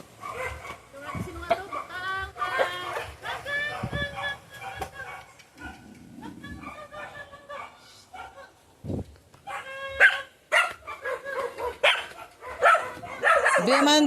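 A dog barks and yips repeatedly nearby, mixed with people talking over it.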